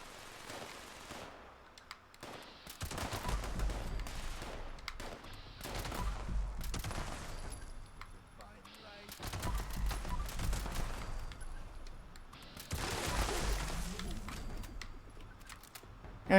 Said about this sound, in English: Follow the sound of gunfire